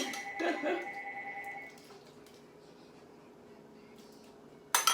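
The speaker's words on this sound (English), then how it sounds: "There goes the phone." A household telephone rings in a kitchen during cooking, a steady electronic tone with a short burst of warbling rings at the start that then fades to a quiet, sustained hum.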